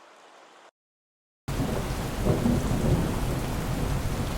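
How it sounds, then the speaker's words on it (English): Unequalized rain recording with thunder: a brief faint hiss, then silence, then a loud, steady wash of heavy rainfall with deep rumbling thunder rolling beneath it, bright and full of high hiss. "there's just too much high frequencies in these original rain recordings"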